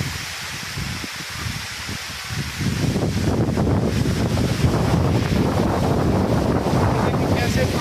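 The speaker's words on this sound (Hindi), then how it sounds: "ये देखिए कैसे पानी बह रहा है, शीशे की तरह साफ पानी है।" Clear water rushing at a waterfall in Bolzano, Italy, heard as a loud, steady broadband roar that swells after the first few seconds, mixed with wind buffeting on the microphone and no talk.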